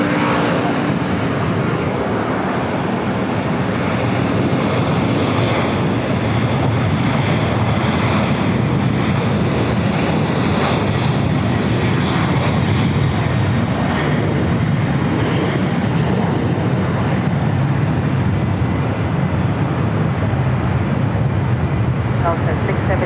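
A Japan Airlines Boeing 787 Dreamliner jet takes off at LAX, a steady broadband roar that stays loud and continuous throughout, mixed with wind buffeting the microphone and no speech.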